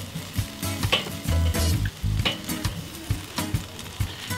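Pineapple-glazed chicken wings sizzle loudly on a charcoal Weber kettle grill, a steady frying hiss broken by scraping and clinks of a utensil as the wings are flipped close by.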